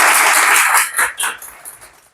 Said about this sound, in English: Let's give the round of applause to Dan for him.